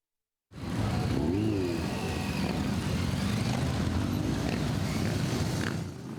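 A column of motorcycles rolls slowly and loudly through the streets of Uzhhorod, a steady close engine drone with a rising rev early on, sustained without pause.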